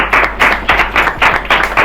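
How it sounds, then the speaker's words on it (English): A few people at a home unveiling in Jamaica clap for the prefect in short, loud bursts of close handclaps, about six quick clusters in under two seconds. "Give her a round of applause, man, the prefect, man."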